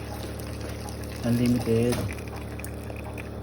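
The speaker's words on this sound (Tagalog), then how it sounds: "Lagyan natin ng sabaw." Broth is poured into a pot of clam soup, giving a brief burst of splashing liquid over steady kitchen background noise, with a short spoken word nearby.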